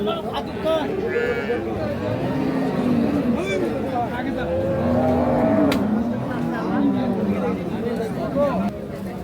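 A Holstein Friesian cow at a busy village cattle market, with low moos and livestock sounds amid crowd chatter and people talking nearby throughout.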